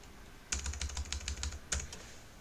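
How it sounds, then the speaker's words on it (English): Rapid clattering keystrokes on a computer keyboard, a short burst of close, crisp clicks typing into a browser, with no voices. "So go to the browser and just type"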